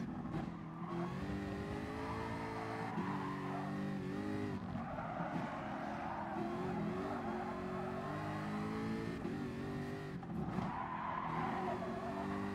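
A fast race car, with a Dodge Viper also on track, screams along at high revs while its tires skid and squeal through corners, loud and continuous with shifting engine pitch.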